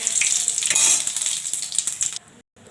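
Spices dropped into hot oil for tempering, a loud, dense sizzle and crackle that stays strong for about two seconds, then cuts away abruptly to near silence.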